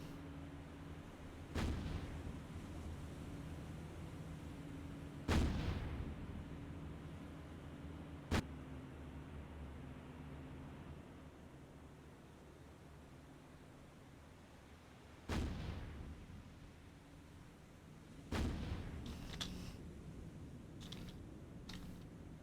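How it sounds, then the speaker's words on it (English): Naval guns aboard a warship in the War on the Sea video game fire in a handful of sharp, widely spaced booming blasts over a steady low engine and sea drone, no voices. "I got the guns in the back firing"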